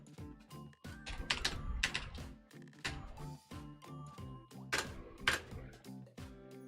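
Someone types quickly on a computer keyboard, close and faint, with clustered clicky keystrokes that come in uneven bursts and short pauses.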